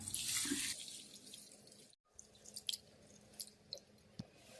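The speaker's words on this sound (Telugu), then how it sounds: "ఒక గ్లాసు పెసరపప్పు తీసుకొని శుభ్రంగా కడిగి రెండు గంటల సేపు నానబెట్టుకోవాలి" Soaked moong dal being washed in water at a kitchen sink, a close running and splashing wash at the start, then quieter drips, squishes and small splashes as the lentils are handled.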